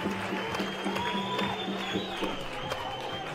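Crowd applause and cheering ring out after Scotland score a team goal for 3-0 against Russia in a men's EuroHockey Championships II semi-final, a steady roar of clapping with a commentator's voice over it.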